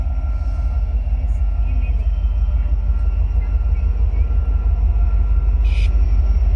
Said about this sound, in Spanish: Escuchen la diferencia de sonido de motores.